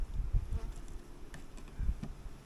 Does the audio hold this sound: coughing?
no